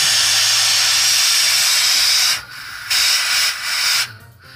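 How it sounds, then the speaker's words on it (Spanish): Pressurised air hissing out of a vehicle's air suspension bags as a lever is pushed down to lower it, a loud steady broadband rush that cuts off briefly twice before trailing away. "aquí le quitamos aire, impulsando para abajo esta palanca."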